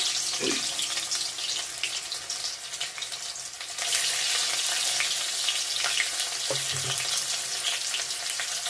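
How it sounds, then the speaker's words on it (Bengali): Onion and garlic fry in hot oil in a wok for a chicken dish, giving a dense, close sizzle that swells louder midway, with a few light utensil knocks. "তেল দিয়ে দিলাম কড়ার মধ্যে চিকেনটা রান্না করব এখন পেঁয়াজ রসুন দিয়ে দিলাম"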